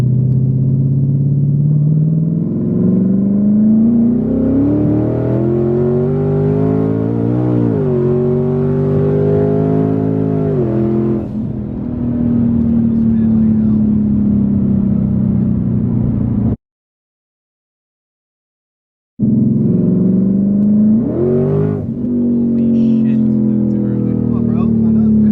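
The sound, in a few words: 1000hp twin-turbo Mustang accelerating and shifting gears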